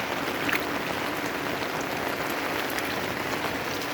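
Heavy rain pours down around a carport while water runs through it, a dense, unbroken hiss of falling drops and flowing water with no voices.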